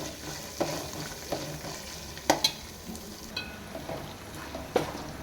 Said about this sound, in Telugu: పుదీనాకును కరివేపాకు వేసేసుకుందాం.